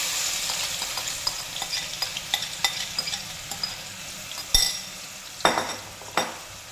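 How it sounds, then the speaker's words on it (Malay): Blended onion and garlic sizzle steadily in hot oil in a pan, with frequent scraping and clinking of a utensil as it is stirred, several louder clanks standing out near the end. "goreng sehingga golden"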